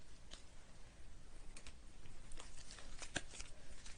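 A deck of cards being shuffled up close, a quiet run of crisp riffling flutters and snapping ticks in irregular bursts, with no talking.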